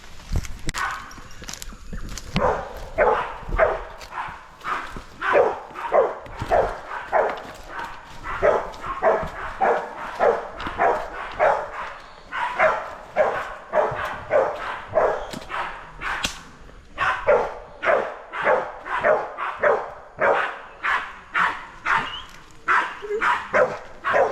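Hunting dogs bark at a wild pig in the bush, a near, loud run of repeated sharp barks and yips in rapid irregular bursts that continue almost without pause.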